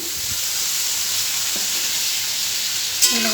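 Potato and carrot pieces sizzle steadily in a hot pan of oil while being stirred for a samosa filling, a close, constant frying hiss with occasional scraping clinks.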